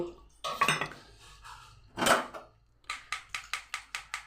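A metal strainer is rapped repeatedly against a pot to push poppy seed and mustard paste through; after a few scattered clinks and scrapes comes a steady run of seven sharp, evenly spaced metallic taps, close and clear.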